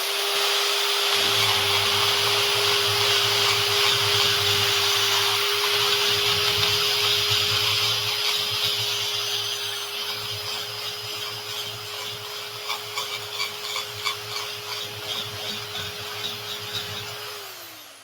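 A Tyrolit tungsten carbide cutter runs at about 5,000 RPM with a loud, steady high-pitched whine over a low motor hum, easing slightly in the second half as faint grinding ticks come through.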